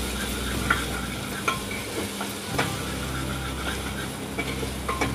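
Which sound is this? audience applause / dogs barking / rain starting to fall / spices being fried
spices being fried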